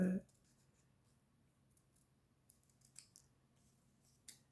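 A small, fine pair of Fiskars scissors snips paper for butterfly-themed scrapbooking, with a few faint, quick cuts scattered across the quiet clip after a brief opening noise.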